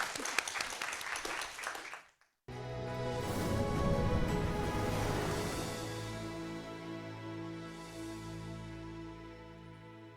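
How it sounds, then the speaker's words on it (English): An audience at a panel session gives the panelists a final round of applause, about two seconds of close, brisk clapping that cuts off abruptly. A stretch of sustained, layered tones follows. "Let's have a last round of applause for our panelists and for Bethany"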